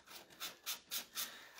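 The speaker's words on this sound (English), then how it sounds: "let's go ahead and sand off this bottom piece" Hand sanding of decoupage paper glued onto a wooden chest drawer, a close, soft rasping rub in four or five even back-and-forth strokes with brief pauses between them.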